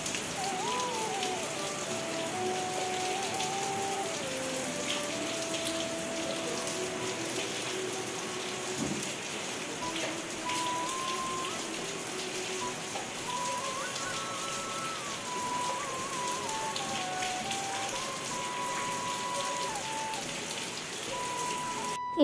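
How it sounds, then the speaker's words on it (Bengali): Steady rain falls outside in a dense, even patter that holds at a constant level throughout, with a faint melodic tone threading through it. "আর এদিকে আমি ব্রাশ করতে করতে কিন্তু আবার বৃষ্টি নেমেছে"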